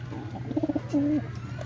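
A pigeon coos close by: a quick run of short, soft notes followed by one longer drawn-out coo, against a low steady hum.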